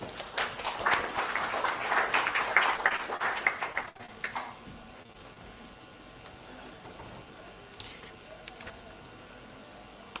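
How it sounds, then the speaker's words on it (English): An audience at the closing ceremony of a conference gives a round of applause lasting about four seconds, then it stops abruptly, leaving a quiet room with faint background noise. "Can we have a great round of applause"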